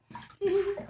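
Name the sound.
water splashing on a child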